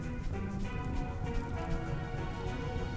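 Steady rain patters across the whole stretch in RimWorld, a dense even hiss of drops on a surface with no break and no voices.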